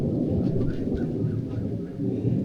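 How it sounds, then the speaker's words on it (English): Thunder from a storm over a beach at Khanom, Thailand, a low continuous rumble that fills the whole stretch at steady loudness, with faint patter of rain and no talking. "That storm is very cool."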